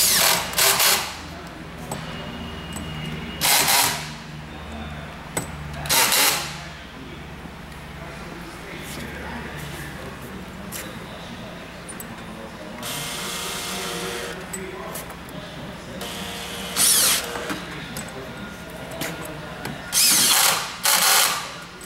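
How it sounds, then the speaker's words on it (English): Power drill driving the screws of a chair's rear stretcher bar, loud whirring bursts of a few seconds each repeating at intervals, with a person talking between them. "finish tightening those screws. And then tighten the front screws."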